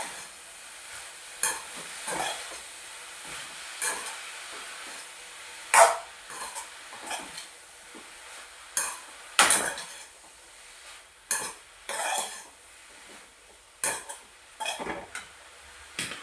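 Spinach thoran is stirred in a pan, a spoon scraping and clinking against the metal in irregular strokes over a soft, steady sizzle, with no talking.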